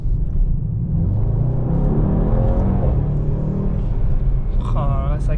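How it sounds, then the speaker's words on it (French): A Mercedes-AMG GT 63 S 4-door accelerates with a deep, close, continuous engine roar, while someone talks over it. "ça accélère."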